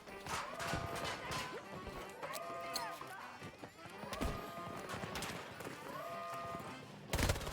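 Rapid bursts of submachine gun fire in a video game, a dense run of sharp cracks repeating through the whole stretch, loud and close, with other game noises layered in.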